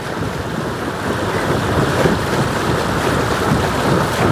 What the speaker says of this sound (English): There's a gust coming towards us.